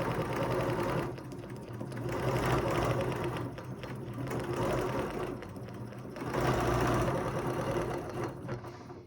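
Sewing machine stitching a quilt guided along a Zippy ruler, a loud steady mechanical whir with rhythmic needle chatter that surges and eases in bursts, pausing briefly as the fabric is shifted, with no talking.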